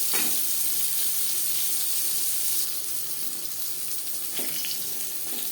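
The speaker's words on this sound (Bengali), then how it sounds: "আমি এখানে একটু হালকা করে ভেজে নেব" Pointed gourd (potol) pieces sizzle steadily as they lightly fry in oil for a vegetarian tel potol dish, a dense, even hiss throughout with a couple of soft clinks of a utensil against the pan.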